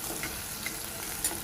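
Shallots, garlic and tomato sautéing in oil for a Turkey berry curry, with a dense, continuous sizzle heard up close and a couple of faint stirring clicks, no voices.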